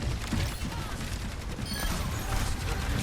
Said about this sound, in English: Shooting a turret.